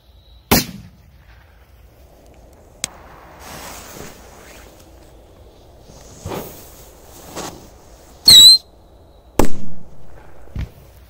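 A K-33 Shark firework rocket fired at night gives a sharp launch crack, then a hiss and a series of loud bangs and crackling bursts spread over several seconds, sharp and near against a quiet background.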